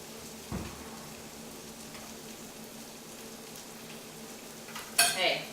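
A pan of chili garlic shrimp with caramelizing onions being whisked and stirred: a low, steady frying hiss runs throughout, with a soft utensil knock early on and a sharper clatter of metal near the end.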